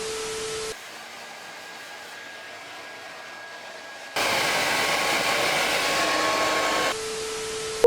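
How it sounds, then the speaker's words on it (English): A hair dryer blows on hair in two bursts, a steady whooshing roar that first runs softer for a few seconds, then switches to a louder, harsher setting before cutting off, with no talking. "Let me just blow dry my hair and then see if we can get this color out."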